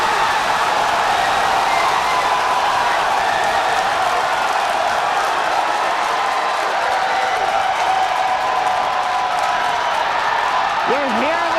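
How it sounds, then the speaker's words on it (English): Crowd cheering during the hot-staging of a SpaceX Starship launch, a loud continuous roar of many voices with a brief voice near the end. "You're hearing the cheering."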